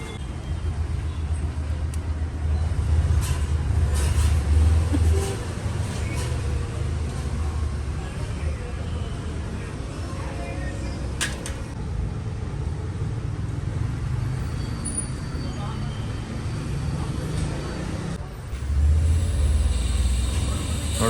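A Yamaha RX 135 Tiger five-speed two-stroke motorcycle with a calculated-port road tune runs at a steady idle, a continuous low rumble that swells briefly near the end, with no talk over it.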